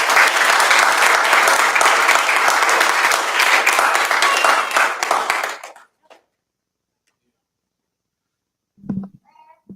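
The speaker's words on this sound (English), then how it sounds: "Let's give her another round of applause." Congregation at the Church of Christ at Kennedy Heights applauds loudly and densely after a talk for nearly six seconds, then the clapping fades into silence before a brief low sound near the end.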